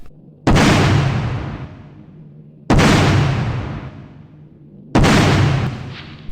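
Three evenly spaced loud gunshots in the hunting video game Canada Hunt, each a sharp booming report with a long decaying tail, with no talk.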